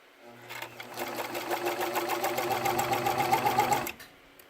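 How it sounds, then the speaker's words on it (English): A serger overlocker sews along the edge of fabric at a slow, steady pace, a close, rapid mechanical chatter rising gently and stopping abruptly after about four seconds. "I find since I haven't done this much, I have to serge kind of slowly"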